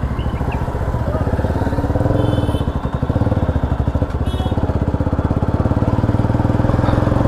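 A motorcycle engine putters steadily at close range as the bike is ridden through traffic at dusk without a working headlight, a continuous rhythmic low-pitched throb that never drops away.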